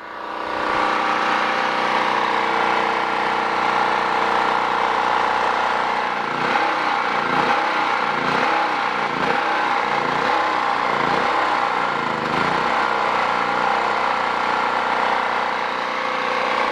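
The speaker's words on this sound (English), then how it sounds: "I got it on half choke now, and it's been running for a good 5 or 6 minutes" A Champion generator engine fitted with a new carburetor runs steadily with its choke open, a continuous close mechanical drone that roughens briefly in the middle before settling back to an even hum.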